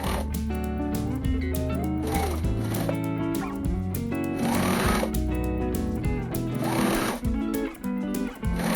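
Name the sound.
sewing machine stitching a dress slit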